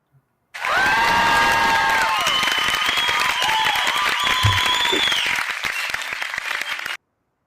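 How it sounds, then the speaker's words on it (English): A canned applause sound effect with clapping and cheering whoops starts abruptly, holds loud and steady for several seconds, then cuts off sharply. "Let's get some applause on that"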